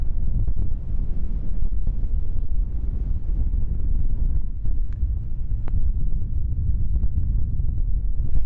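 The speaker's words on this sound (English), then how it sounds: "Been a bit windier today" Wind gusting across the exposed granite summit of Yes Tor, Dartmoor's high moor, buffeting the microphone with a continuous low rumble and fluttering gusts, with no voices.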